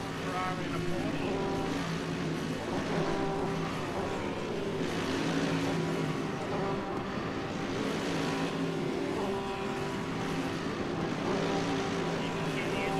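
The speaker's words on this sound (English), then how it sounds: "You can hear the engine revving." GT3 race cars in a racing video game, including Bentleys, a Ferrari and a Porsche gridded up at Road America, produce a continuous rumbling engine drone at idle and revs, steady throughout with speech over it.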